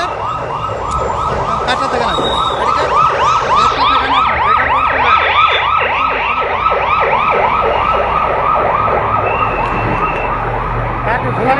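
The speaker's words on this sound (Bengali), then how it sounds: "এটা এখন হয়ে গেল আসলে ফায়ার সার্ভিসের আরও একটি ইউনিট কিন্তু আসলে ভেতরে প্রবেশ করেছে" A fire engine siren wails loud and close in rapid repeating rises and falls during a fire at Hazrat Shahjalal International Airport, continuous throughout, with traffic noise and faint voices beneath.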